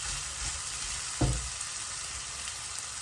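Nigerian beef suya frying in a pan with a steady, close sizzle, plus one brief louder burst of frying partway through.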